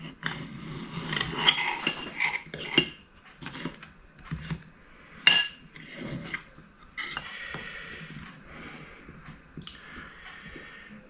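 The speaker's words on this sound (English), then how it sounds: "let me just turn it around and cut into this. Pastry is nice and crispy." A knife cuts into a crispy Welsh oggie pasty on a plate with a series of close crunchy crackles, scrapes and clinks of metal on the plate, arriving in irregular bursts with quiet gaps between.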